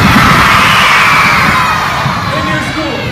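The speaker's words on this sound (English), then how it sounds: "I'm going to say the word explosion, and you yell boom." A crowd of elementary school children yells and cheers together in a loud, sustained roar that fades slightly toward the end.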